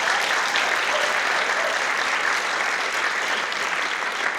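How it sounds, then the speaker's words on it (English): A large concert audience gives sustained, dense applause for volunteer musicians at a charity concert, forming an even, continuous roar of clapping at steady loudness from start to finish. "I think they need the really big applause right now."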